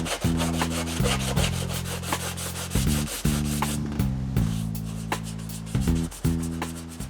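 Hand sanding of body filler on the bumper of a 1993 Toyota MR2, heard as a steady run of rhythmic back-and-forth rasping strokes, close and fairly loud, over a low droning hum.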